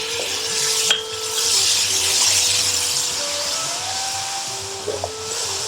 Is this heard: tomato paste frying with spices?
yes